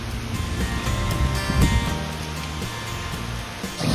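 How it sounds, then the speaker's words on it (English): Rain falling steadily in the tourist town of Paraty, Brazil, a dense continuous wash of drops that stays loud and even, with a brief heavier surge near the middle and no voices. "But then it started raining."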